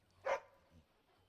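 A single short dog bark from a puppy in the video game Dragon Age: Origins, quiet and close, followed by a faint low grunt, with near silence around it.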